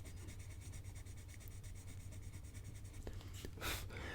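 A Staedtler Mars Lumograph 7B graphite pencil is applied heavily to paper, giving a soft, continuous scratchy rubbing close up with a brief louder scrape near the end.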